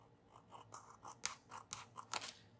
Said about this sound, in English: I think I'll use my scissors instead of my straight edge.